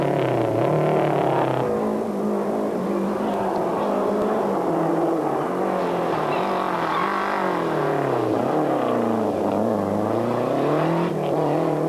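Lancia rally car engine misfiring and running poorly low down on a wet stage, a loud, continuous strained drone whose pitch dips and rises as it labours and revs, heard close with no talk.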